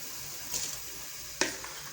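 Soaked masoor dal and rice tip into a pot of boiling water for khichdi, making two brief soft splashes over a quiet steady hiss.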